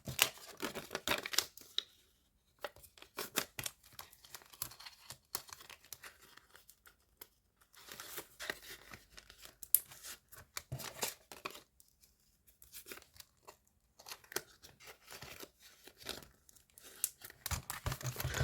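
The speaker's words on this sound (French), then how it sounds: "Je remplis les enveloppes qui suivent et je dis rien." Paper budget envelopes being filled, with dense crinkling, tearing and rustling of paper and cash handled up close, steady busy handling throughout with short pauses and no talking.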